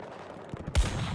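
A single sharp gunshot in the video game Battlefield 2042, a loud close crack with a booming low tail after a short quiet stretch and no talking.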